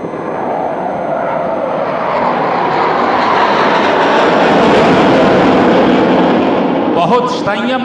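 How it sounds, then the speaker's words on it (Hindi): A MiG fighter jet roars overhead while flying a figure-eight manoeuvre at a Navy Day air display, its loud, sustained engine rumble swelling and holding steady for several seconds before easing off near the end. "मिग इस समय अंग्रेजी का 8 आपके समक्ष हवा में बनाता हुआ"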